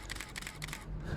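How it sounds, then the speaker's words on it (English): A camera shutter fires in fast burst mode at a portrait shoot, a rapid string of about eight or nine close mechanical clicks in quick rhythm. "So as you can hear, I'm actually using burst mode for majority of these shots"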